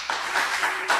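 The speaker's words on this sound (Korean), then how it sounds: "말씀을 박수로 듣겠습니다" Congregation clapping at a Thursday church meeting after a sermon, a short burst of scattered hand claps with a few sharper claps standing out, heard without speech.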